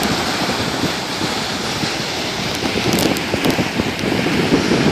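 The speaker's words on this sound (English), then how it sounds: "Look at these waves." Ocean waves roll in at a beach, a loud continuous surf wash with wind rushing across the microphone and occasional faint distant voices.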